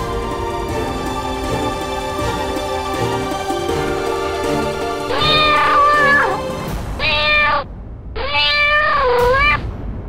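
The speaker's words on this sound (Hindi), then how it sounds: "बिल्ली इस घर में कहां से है?" A cat meows three times in close succession, loud and near, over a steady background of music.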